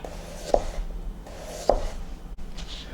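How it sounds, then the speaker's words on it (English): A knife cutting thin slices of radish on a board, with two distinct crisp chops about a second apart and a fainter third cut near the end, close by and otherwise quiet. "I'm going to do some thin slices of radish."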